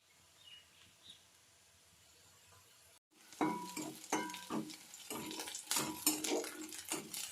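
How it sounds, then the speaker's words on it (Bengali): Potatoes frying in a pan, where a quiet start gives way to a sudden loud sizzle with stirring scrapes and clinks against the pan, close and continuous. "আলুটা এখন লাল করে ভেজে নেব।"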